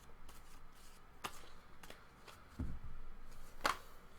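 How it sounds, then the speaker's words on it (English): A deck of tarot cards is shuffled during a psychic reading, soft riffling and sharp slaps of card edges at irregular intervals, close and fairly quiet with no talking. "We're going to finish our shuffle here."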